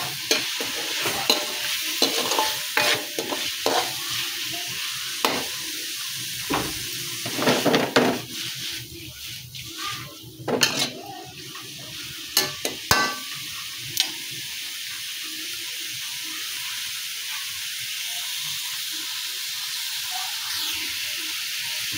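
Mushrooms frying golden brown in a pan for a chicken mushroom dish, a steady close sizzle and hiss with intermittent scraping and stirring strokes, continuing without talk.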